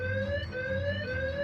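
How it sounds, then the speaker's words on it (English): Fire alarm in the Choices: Stories You Play game, a loud, steady electronic ringing that pulses in repeated beats with no pauses. "fire alarm jolts both of you out of your thoughts"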